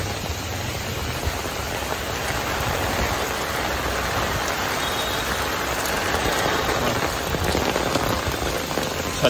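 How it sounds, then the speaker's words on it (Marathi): Heavy monsoon rain pours onto an umbrella on a Mumbai street, a continuous, dense drumming hiss that stays loud and unbroken throughout, with no voices. "छत्रीचा आवाज पण येत असेल बघा जोरदार"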